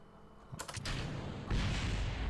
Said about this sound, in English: What was that extra explosion? Why was there an extra explosion?